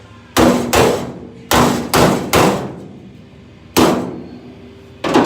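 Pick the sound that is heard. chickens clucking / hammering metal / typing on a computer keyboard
hammering metal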